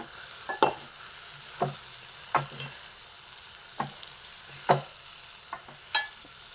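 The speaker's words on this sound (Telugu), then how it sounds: "కొత్తిమీర వేసుకొని కలుపుకుందాం." A spoon stirs chikkudu kaya (broad bean) curry in a pan after coriander leaves go in, giving about seven spaced scraping clacks against a soft sizzling background, close up and with no talking.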